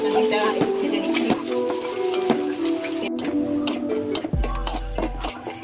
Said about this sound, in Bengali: ডিমটা একটু ভেজে নিচ্ছি।